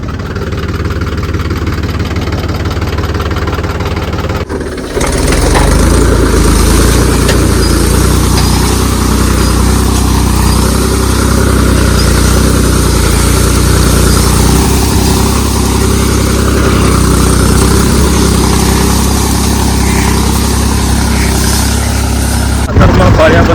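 Loud, steady rumble of a tractor engine running close by in a sugarcane field, continuous and droning throughout with a slight rise after the first few seconds.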